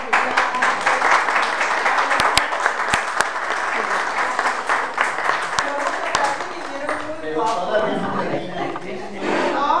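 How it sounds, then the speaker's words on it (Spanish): Sustained applause from an audience, steady clapping filling the room throughout with a few sharper claps standing out, fading slightly toward the end. "Yo propongo a la audiencia que le demos un aplauso"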